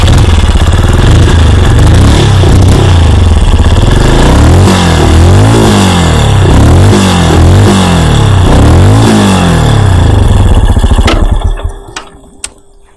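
A Benelli Imperiale 400 motorcycle engine fires up and runs loudly up close, with repeated throttle blips rising and falling over a steady idle before cutting off near the end.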